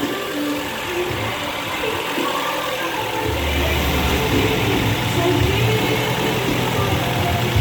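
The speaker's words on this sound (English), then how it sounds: "Compressor is pumping" A 2013 Kia Sportage engine idling with its A/C compressor running, a steady close mechanical drone that thickens into a fuller, slightly louder hum partway through.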